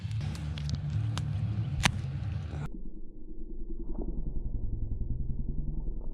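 A Yamaha Wolverine side-by-side runs nearby with a steady engine rumble, first mixed with broad rushing noise, then settling into a lower, even idle drone.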